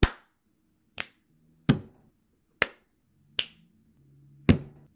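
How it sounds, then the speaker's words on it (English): Sharp, close percussive hits ring out alone in a slow, uneven sequence: six distinct claps, finger snaps and slaps on a desk, each cracking briefly and then decaying quickly into near silence. "Clap, snap, hit the desk."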